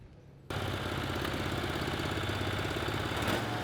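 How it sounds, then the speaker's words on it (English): A 31-horsepower Briggs engine on a pulling tractor at a tractor-pull competition bursts in after a brief quiet moment, holding a loud, steady, high-revving roar with a gritty mechanical clatter for the rest of the clip. "That 31 horse Briggs is revved up and ready to go."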